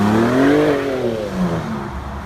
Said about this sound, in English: it has the sound of, the V6, which honestly isn't that bad.